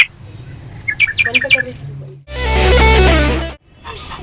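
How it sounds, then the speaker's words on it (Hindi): Morning birdsong outdoors near a home garden: a quick run of bright, repeated chirps near the start, followed by a loud broadband burst and fainter chirping at the end. "सुबह सुबह चिड़िया आती है"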